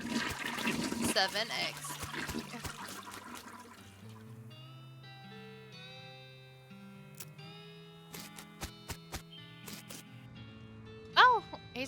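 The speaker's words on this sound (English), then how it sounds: "Oh my god, flush the toilet." A toilet flushes inside a Western-themed video game at a location called Roy Bean's House of Justice. The loud rushing flush comes first, then fades into soft in-game music tones and a few sharp clicks, with a voice speaking briefly.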